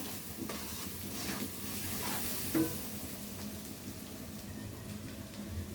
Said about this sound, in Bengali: এখন সুন্দর করে নেড়ে চেড়ে কষাতে হবে যেন হলুদ মরিচের গন্ধটা না থাকে